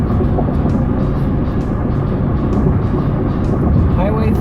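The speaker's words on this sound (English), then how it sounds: "And like that, we're on the highway. And we're already doing like 75." A 2007 Chevrolet Tahoe LS cruising at about 75 mph on the highway fills the cabin with a loud, constant rumble of road and wind noise.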